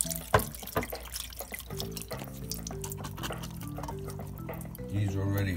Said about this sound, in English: I'm going to pour them in here to drain